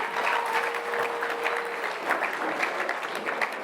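Steady audience applause fills a graduation-style alumni association gathering, a dense, even wash of many hands clapping at close range throughout, with no voices over it.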